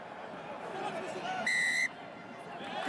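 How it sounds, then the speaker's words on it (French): A referee's whistle blows once, sharp and steady for a moment, over crowd noise and chatter during a TOP 14 rugby semi-final between Montpellier and UBB as a penalty is awarded. "Et la pénalité est sifflée contre Montpellier."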